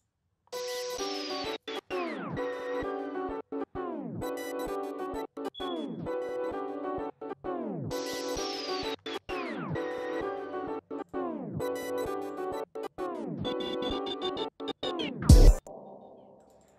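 A choppy electronic beat of repeating bursts with sharp stuttering cuts and falling pitch sweeps, ending in a loud glitchy crunch before fading out.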